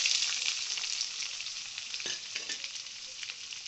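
Onions and green chillies, added with cumin and curry leaves, frying in oil: a bright, steady sizzle close by, with a few light stirring scrapes, fading slightly before cutting off.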